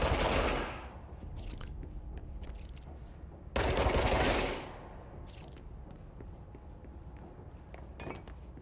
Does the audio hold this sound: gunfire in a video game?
yes